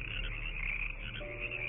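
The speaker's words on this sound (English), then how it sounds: "Alex, they're fucking frogs!" Frogs croak steadily in a dense, continuous chorus that stays loud and close throughout, with no voices over it.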